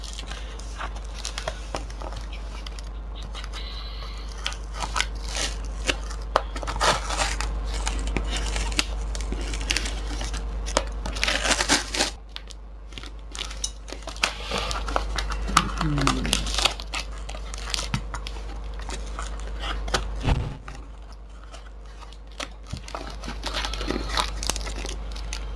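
Plastic packaging on a BlazBlue Calamity Trigger limited edition game box being cut and unwrapped: close, continuous crinkling and tearing of plastic wrap with scattered snips and scrapes, and someone speaking at times.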